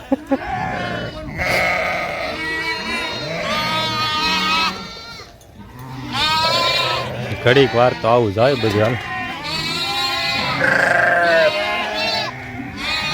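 Goats and sheep bleat in a village, several wavering calls overlapping, with people talking loudly nearby throughout.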